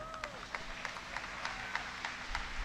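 Audience applause in a played political speech: scattered, fairly faint clapping with sharp claps popping up at irregular moments over a steady noisy background.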